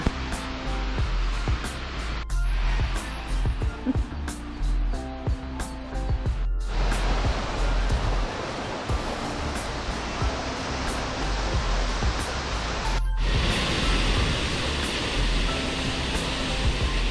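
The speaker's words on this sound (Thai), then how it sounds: "ค่ะตอนนี้เรามาถึงตรงตีนน้ำตกกันแล้วนะคะ" Steindalsfossen waterfall roars as a continuous broadband rush of falling water, heard up close at its base. A brief cut interrupts the steady noise now and then.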